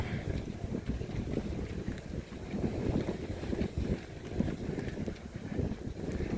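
Wind gusts along a seaside promenade in Brighton, buffeting the microphone with a continuous low rumble that swells and eases. Faint background activity sits underneath.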